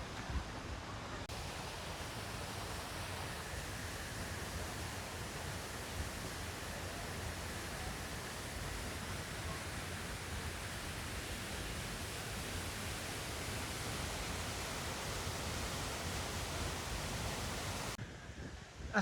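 Steady, dense rush of a waterfall on a mountain trail near Laza in Qusar, a continuous broadband roar of falling water holding constant loudness for the whole stretch, with no voices over it.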